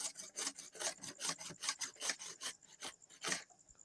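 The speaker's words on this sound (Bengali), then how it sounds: "এবার গ্রেটারে ঘষে নিয়েছি।" Papaya rubbed against a kitchen grater makes rhythmic rasping strokes, roughly a dozen quick scrapes in steady succession, close and fairly soft, with no speech.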